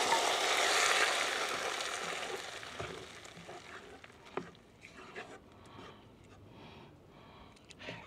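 Daal is tempered over an outdoor chulha, giving a loud burst of sizzling and frying that gradually dies down to a quieter crackle with occasional stirring noises.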